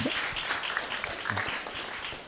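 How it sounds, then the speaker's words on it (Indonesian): An audience at a youth discussion forum in North Bengkulu breaks into applause, a short burst of scattered clapping at moderate volume. "Wah, tepuk tangan."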